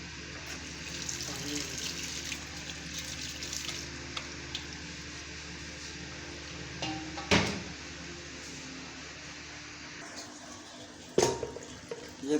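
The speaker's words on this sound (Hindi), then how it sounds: "अब इसके ऊपर से हम पानी लगाएंगे हल्का सा।" Water is poured lightly over strained chana dal while Hyderabadi dal chana is being prepared at home, giving a steady soft splashing wash with a couple of sharp knocks of utensils.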